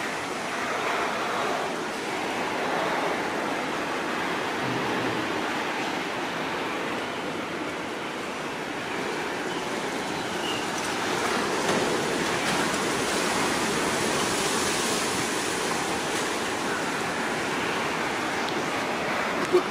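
Strong gusts of Typhoon Jebi in Osaka roar as a steady, loud, broad rushing noise that swells slightly over about twenty seconds, with no voices.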